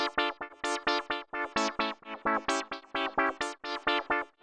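An organ-like synth from a pop track's last chorus plays a bouncy rhythmic run of short chords with effects and distortion, each note cutting off sharply, heard alone and fairly loud.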